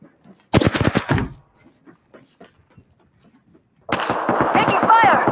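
Gunfire in the battle-royale video game Apex Legends: a fast, loud burst of automatic shots, a quiet stretch of scattered small sounds, then another dense rapid volley mixed with effects and a voice.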